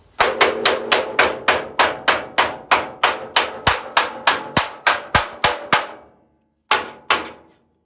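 A hammer knocks down sheet-metal body panels on a car build, about seventeen sharp ringing metallic blows in a quick even rhythm, close and loud, followed by a short pause and two final strikes.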